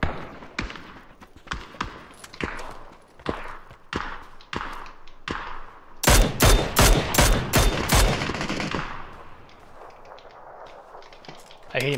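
Video game gunfire crackles in a rapid string of sharp shots, with a dense, louder volley of blasts in the middle before tapering into scattered reports.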